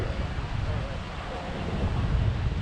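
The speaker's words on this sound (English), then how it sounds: "So we're now on the skywalk, and it's a bit windy up here." Wind gusting across a high skywalk about 22 meters up in Singapore, a steady, rough low roar buffeting the microphone throughout, rising slightly toward the end.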